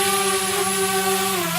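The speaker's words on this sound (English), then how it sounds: "So we made a drone with a 10 liters capacity." Drone with a 10-liter spray tank flying, a steady, loud motor whine with sustained tonal hum and slight pitch drift throughout, continuous and close.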